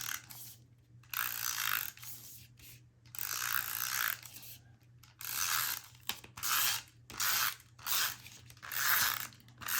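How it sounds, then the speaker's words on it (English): A pink adhesive tape runner clicks and rasps in repeated strokes across a photo mat for a wedding album, each pass a close, crisp ratcheting burst separated by short pauses. "here I am just going to use my pink adhesive"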